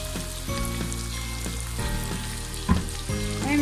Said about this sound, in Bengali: আমি মাছটাকে মিডিয়াম আঁচে ঢেকে ভেজে নিব